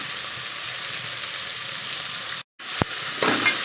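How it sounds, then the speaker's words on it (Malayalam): Ginger, garlic and onion sautéing in a pan for beef curry, a steady close sizzle throughout with a brief dropout and a few stirring scrapes near the end. "എല്ലാം കൂടെ ഇട്ടൊന്ന് വഴറ്റി കൊടുക്കാം."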